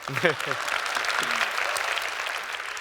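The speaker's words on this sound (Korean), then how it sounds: "박수 한번 안 주십니까?" Steady applause from a lecture audience fills the clip at moderate volume, with a brief spoken voice at the start.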